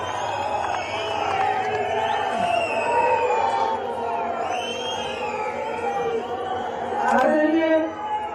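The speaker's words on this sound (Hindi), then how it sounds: "जोरदार तालियों से स्वागत करें" A large crowd at a Congress party event unveiling a Virbhadra Singh statue cheers and claps to welcome Priyanka Gandhi Vadra, a loud mass of voices and applause with swells around the middle and near the end.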